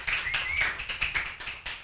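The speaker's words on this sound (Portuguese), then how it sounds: "Aplaude vocês aqui também." A church congregation applauds during a sermon, with steady, fairly close hand claps in an uneven rhythm that carries on for a couple of seconds.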